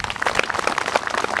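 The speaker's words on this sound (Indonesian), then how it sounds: "Tepuk tangan semuanya." An audience at a PKK women's community gathering applauds, a dense patter of many hands clapping at moderate volume and fairly close, with a few faint voices mixed in.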